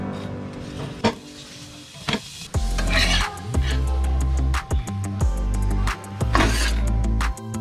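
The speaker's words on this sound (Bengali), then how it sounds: "মা বেলে দিচ্ছে আর আমি ভেজে নিচ্ছি।" Paratha flatbread fries in a pan with very little oil while dough is rolled alongside, giving a steady sizzle broken by clatters and scraping stirs, with a low harmonic hum and no talk.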